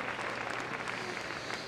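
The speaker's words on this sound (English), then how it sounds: "Give them a round of applause as she leaves the arena." An audience at Crufts freestyle heelwork to music applauds as a dog-and-handler team leaves the arena, a fairly faint, even round of clapping heard from a distance.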